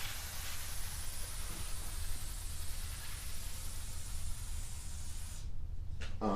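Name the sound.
spraying lubricant on garage door chain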